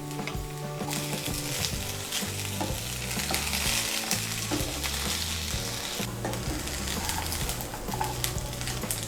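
Paneer fried rice with a spoonful of ghee is stirred in a hot pan, giving a continuous close sizzle broken by repeated scraping strokes of the spoon, loud and steady throughout.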